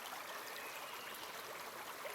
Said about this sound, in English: the water coming down the Rubicon River